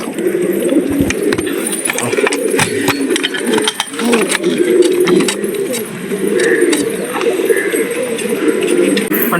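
Pigeons in a loft coo continuously from close by, many soft overlapping throaty calls in an uneven rhythm, with light fluttering and scratching in the background.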